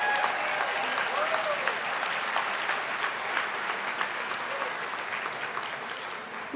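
A large audience at the Top 7 Over 70 gala applauds steadily, a dense, sustained wash of clapping heard from within the room, with a voice speaking faintly over it.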